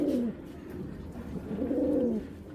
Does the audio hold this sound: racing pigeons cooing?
yes